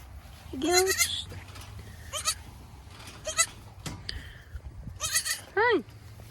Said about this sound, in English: Here are the baby goats.